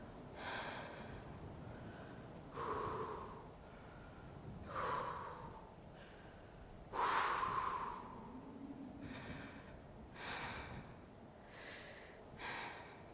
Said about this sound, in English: that's not me heavy breathing over her